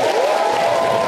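A television talk-show studio audience applauding as a guest is welcomed, a steady dense wash of clapping and crowd noise throughout, loud and close.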